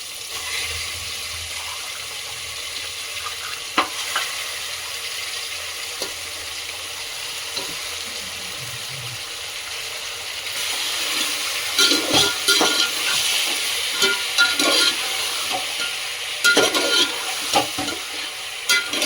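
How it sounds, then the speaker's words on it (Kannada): Steady hiss of washed chicken frying in a pot with fried onions, growing louder and busier partway through, with occasional scrapes of stirring. "ಒಂದು ಎರಡರಿಂದ ಮೂರು ನಿಮಿಷ ಒಂದು ಸ್ವಲ್ಪ ಫ್ರೈ ಆಗಲಿ"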